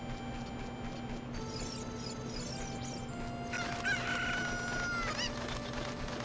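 A Cucco chicken crows in The Legend of Zelda: Ocarina of Time on Wii U, its rising cock-a-doodle-doo calls sounding clearly over a soft, steady game backdrop with faint musical tones.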